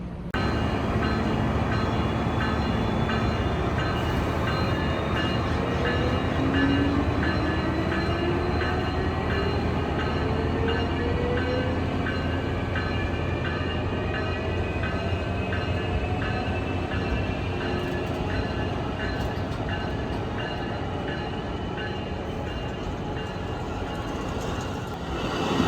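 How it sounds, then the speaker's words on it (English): An Amtrak commuter train in California rumbles steadily for the whole stretch as it departs a station, wheels grinding on the rails and the engine droning as it pulls away, loud and close. "after the train departs out of the station"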